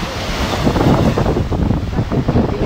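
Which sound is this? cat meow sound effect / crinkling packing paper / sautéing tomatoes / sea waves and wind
sea waves and wind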